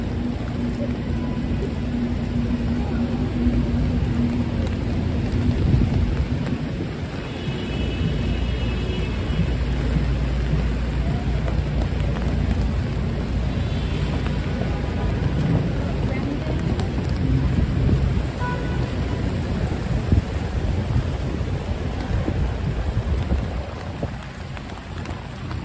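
A Saturday rain storm with thunder over Manhattan: steady, dense rain hiss fills the whole stretch, mixed with the low rumble of city traffic and gusts of wind noise on the microphone.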